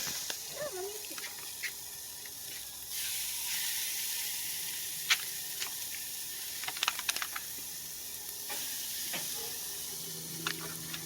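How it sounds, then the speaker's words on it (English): A steady crackling sizzle of pork chops cooking on a grill, with occasional sharp clicks and pops, close by and without talking. "that's the sizzle we're looking for."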